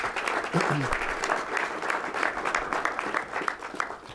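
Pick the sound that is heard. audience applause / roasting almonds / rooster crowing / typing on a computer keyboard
audience applause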